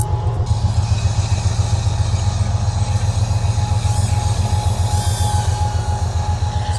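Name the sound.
passing train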